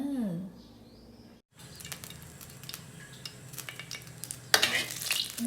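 Minced meat dry-stir-fried in a pan for a northern Thai spicy pork dish, with a soft steady sizzle and scraping stir strokes, a sharper burst of frying near the end, and faint birdsong in the background.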